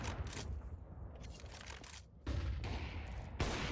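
Rifle gunfire in Counter-Strike, rapid bursts of sharp shots crackling in quick clusters, fairly close, with short pauses between volleys and a louder burst near the end.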